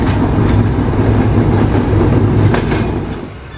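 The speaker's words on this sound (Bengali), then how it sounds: "দৌলতপুর বাজারের কাছে এসে আমাদের ট্রেনের গতি হঠাৎ অনেক কমে যায়" Jahanabad Express passenger train near Daulatpur Bazar on the Khulna–Dhaka line rumbles steadily on the rails with a dense, loud roar, which eases off and grows quieter toward the end.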